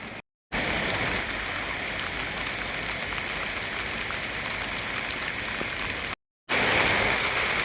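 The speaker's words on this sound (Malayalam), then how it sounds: "ഞാൻ ഇവിടെ നിന്ന് വെള്ളമൊക്കെ ഒഴുകി വരണോക്കിയേ" Floodwater near the Matikunnu temple pouring down like a waterfall, a loud, steady rushing roar that fills the scene, broken by two short silent gaps.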